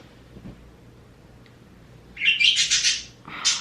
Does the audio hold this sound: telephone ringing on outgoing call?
no